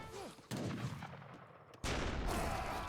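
Gunfire aimed at a longbowman in the Age of Empires video game, with two loud bursts of shots that cut in sharply, one around the middle of the clip and one near the end, over the game's background sound.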